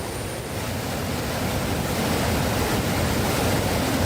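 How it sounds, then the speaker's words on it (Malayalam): Strong current of the Chaliyar river in flood during heavy rain in Kozhikode, a steady, loud broadband rush of water that holds unbroken throughout, with no voices. "ചാലിയാറിന്റെ താഴെ ഭാഗങ്ങളിൽ വലിയ തോതിൽ വെള്ളത്തിന്റെ കുത്തൊഴുക്ക് രൂപപ്പെട്ടു"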